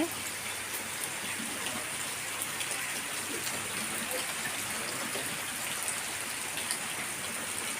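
Steady, dense rainfall pours down continuously, a broad hiss of drops spattering on surfaces with no pauses.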